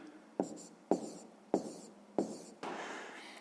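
Pen or chalk writing a fraction on a surface, five short scratchy strokes with sharp onsets spaced roughly half a second apart, quiet and close, the last one slightly longer.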